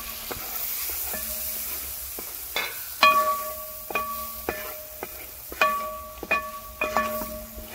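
Chilli, sambar, coriander and turmeric powders sautéed in oil in a pan for Kerala sambar, a soft sizzle under a series of sharp metallic ringing clinks and scrapes from a spoon against the vessel.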